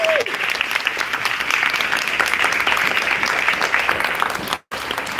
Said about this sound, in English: Let's give a round of applause for the